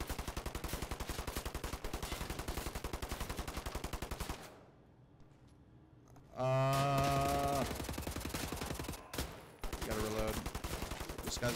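Rapid automatic gunfire in Wolfenstein: The New Order, dense bursts of shots that pause briefly then resume with a loud droning tone and more firing; close and loud, with no speech.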